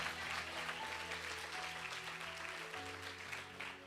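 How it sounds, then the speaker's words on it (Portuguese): A church congregation applauds in a continuous, moderately loud burst of clapping with a faint underlying hum. "Pode aplaudir mais forte,"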